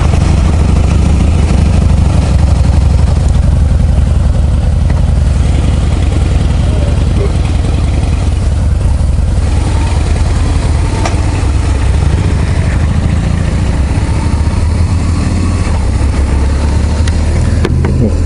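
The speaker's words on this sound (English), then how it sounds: "nothing like the sound of that old Harley Davidson, them V-twin engines. That is a pretty sound." An old Harley-Davidson V-twin motorcycle engine runs loud and close, a continuous throbbing rumble that holds steady with slight rises in revs.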